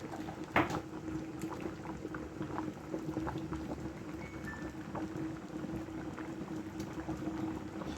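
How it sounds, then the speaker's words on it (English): Chicken foot soup with red scotch bonnet pepper bubbles steadily in a pot, a continuous close simmering with small pops and a faint background hum, no talking. "right here you got the chicken foot soup over here bubbling up nice and lovely"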